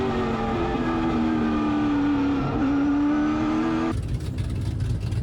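Late model race cars roar around a track, one loud engine droning steadily with rising and falling pitch as it revs, then a sudden shift to a rougher, noisier passing sound near the end.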